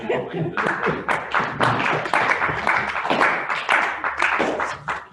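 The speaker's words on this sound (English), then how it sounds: "I know a pity clapping here" Scattered audience clapping at a Lions Club meeting, a brief patter of hands that rises and falls in bursts over a few seconds, fairly close and with some voices mixed in.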